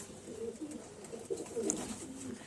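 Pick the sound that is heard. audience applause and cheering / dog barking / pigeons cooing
pigeons cooing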